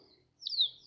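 A pet bird kept in a cage at home gives a single high, bright chirp, close and clear, in a quiet room.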